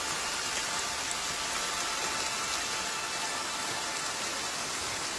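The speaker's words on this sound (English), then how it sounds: "The next day the sky began to rain." Rain falls steadily on an island in an animated film, an even, dense hiss of countless drops with no pauses or voices.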